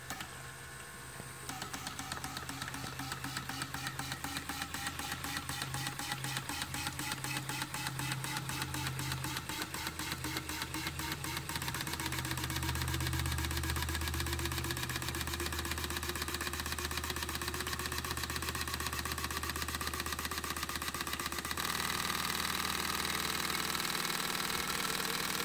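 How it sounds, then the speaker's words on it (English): Fuel injectors firing on a homemade Arduino injector flow bench, a fast, even ticking that runs steadily for several seconds over a continuous pump-like hum, ending in a louder steady buzz. "I'll press the button once. It'll fire the injectors once"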